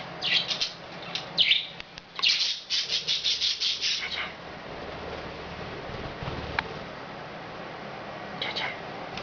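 A pet budgie chirps indoors in quick bright bursts and trills, loud and close, with a pause before a few scattered calls resume; a voice speaks to it between the chirps.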